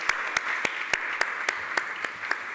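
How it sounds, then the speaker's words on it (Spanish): A single person's claps at a closing debate session, spaced at a steady, even rhythm over a soft background hum, near and fairly quiet, with no talking. "venga, el aplauso"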